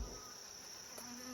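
Honey bees swarm and buzz around an open hive as its cover is being put back on, giving a steady, close, continuous hum with no voices over it.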